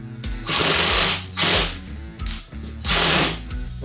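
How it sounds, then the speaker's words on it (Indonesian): A Mollar CID20500-U 13mm cordless impact drill whirs in three loud bursts of roughly a second each, with brief pauses between, its motor buzzing and clattering mechanically up close. "dia akan terus memutar ya, tenaganya ini lumayan besar"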